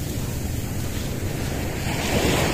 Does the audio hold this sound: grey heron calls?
no